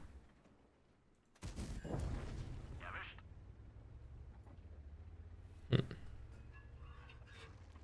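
A CS-63 tank's cannon fires in a tank battle video game: one sudden booming shot with a rumbling tail, then a sharp smaller pop a few seconds later, all fairly faint.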